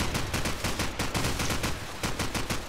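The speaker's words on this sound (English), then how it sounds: "Firing some shots away through the smoke." Call of Duty promod gunfire on the Crossfire map during a competitive match: a rapid, steady burst of automatic shots fired through smoke, loud and continuous without pause.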